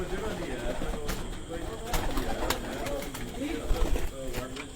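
Balo Battiyan pigeons, including a golden female, coo softly close by, with someone speaking over much of the sound.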